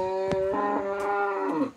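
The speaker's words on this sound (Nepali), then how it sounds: "कत्रो कराएको गाई" A cow lets out a loud, drawn-out moo close by, one long tonal call lasting most of two seconds before it breaks off, with no talk over it.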